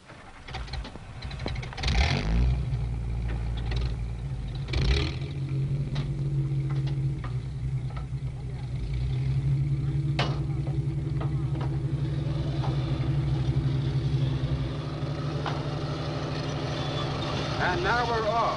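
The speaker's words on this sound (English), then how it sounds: "The other personnel carriers move out with us." Military armored personnel carriers and tanks moving out at Fort Hood, Texas: a steady, loud low engine rumble and droning tracks with occasional clanks and revs, continuous throughout under intermittent talk.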